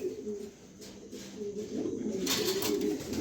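Male red checker pigeon cooing softly close by, a few low rolling coos repeated in a gentle rhythm over quiet background noise.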